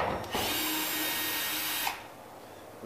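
Power drill or screw gun driving a long screw through 5/8-inch sheetrock into a wooden stud during a water-damaged ceiling repair, a single steady whir lasting under two seconds, close and fairly loud.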